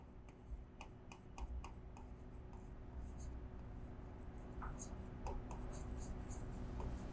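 A pen or chalk scratching across a board during an accounting lesson, soft repeated ticking strokes under steady background hum while someone talks in Hindi.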